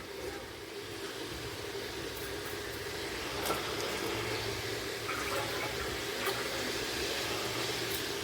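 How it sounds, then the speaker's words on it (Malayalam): Water is poured steadily into a cooking pot of jackfruit, a soft continuous splashing and gurgling that grows slightly fuller partway through. "ഇനി നമുക്ക് വെള്ളം ഒഴിച്ച് കൊടുക്കാം."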